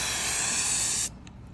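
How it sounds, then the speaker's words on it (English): Turbo Can sprayer applying paint in a steady, loud hiss of spray for about a second, then cutting off abruptly into quiet. "Phase 2, we spray them with the Turbo Can paint."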